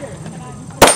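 A single sharp pistol shot at a shooting range cracks out near the end, loud and close, after a quiet stretch of low background noise.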